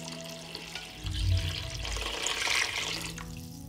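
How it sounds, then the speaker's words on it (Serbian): Water is poured into a pot over fried pepper, tomato and garlic. It makes a rising, rushing splash that swells and then continues steadily, close and moderately loud, with no talking. "Nalit ću vodu da prekrije sve sastojke."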